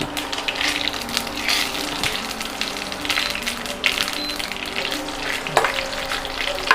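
Cinnamon and cloves fry in hot oil with mustard seeds and cumin for mutton kulambu, a dense, close sizzle with crackling pops and occasional metallic clinks of a stirring spoon.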